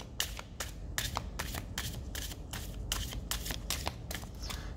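Tarot cards being shuffled by hand, a steady run of soft riffling snaps and papery flutters repeating close up, with no talking over them.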